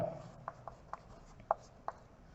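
Chalk on a blackboard during a maths lesson on algebraic identities, tapping and scratching in five or six short, quiet strokes with pauses between them, nearby and with no talk.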